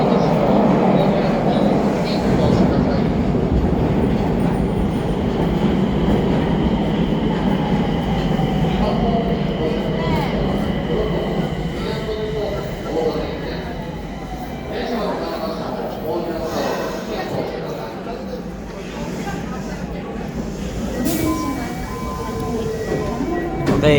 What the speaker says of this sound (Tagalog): So guys, ayun na yung tren.